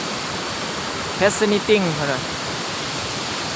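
Broadband rushing water of Kuang Si waterfall near Luang Prabang, a steady even roar filling the whole clip, with a brief burst of speech partway through.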